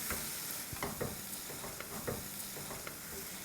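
Chicken korma with garam masala, salt and other spices frying in a pan, a steady close sizzle broken by regular scraping strokes of a stirring spoon.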